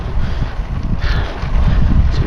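Strong wind buffets the microphone during an evening bicycle ride, a loud, steady low roar with gusty surges that lasts throughout with no talk.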